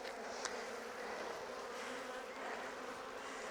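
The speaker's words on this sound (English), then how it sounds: "Busy, busy bees." Honeybees on a new hive frame, drawing out comb on wax foundation, give off a dense, steady buzzing hum close by, unbroken and with no talk.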